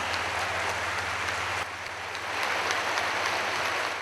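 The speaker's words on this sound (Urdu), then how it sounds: "آپ کی بھرپور تالیاں" Broad, steady applause from a large audience at a Pakistani youth event honouring Prime Minister Shehbaz Sharif, continuous dense clapping with a low steady hum underneath and no pause across the stretch.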